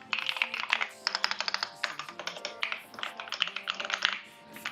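Close, steady typing rattles on a custom-built ND75 mechanical keyboard fitted with coffee-themed switches, a rapid clatter of crisp keystrokes that trails off briefly near the end.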